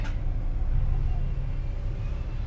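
An Aerobus Tentrem Avante D2 coach reverses at Terminal Batoh in Aceh, its steady low engine rumble holding close and even throughout with no jolts.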